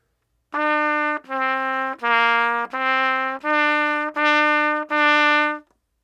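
A trumpet plays seven separate held notes in a steady rhythm, clean and close, with a brief silence before the first and after the last.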